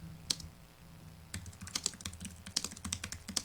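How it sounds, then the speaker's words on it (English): An address being typed on a computer keyboard, with a single early keystroke, a pause, then a run of sharp irregular taps, close-up with no talking. "And then we'll type in the center address."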